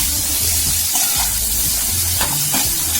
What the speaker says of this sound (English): Now you put the raw mango, mix it well properly.